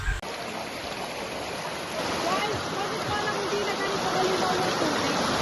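A river littered with plastic waste flows with a steady, close rushing and burbling of water that continues throughout. A faint murmur in the background may be distant voices.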